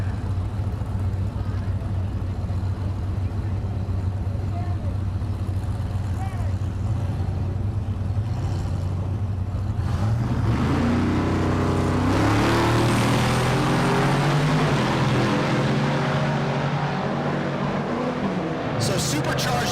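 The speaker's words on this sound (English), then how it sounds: "So supercharged LS in the left lane, turbocharged LS in the right lane." Drag race cars with supercharged and turbocharged LS engines idle at the strip before one launches into a loud rising roar midway, with talk heard over the engines.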